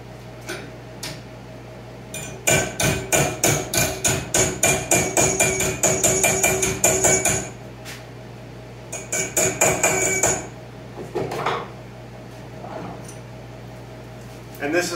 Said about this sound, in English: just tap it down to where you need it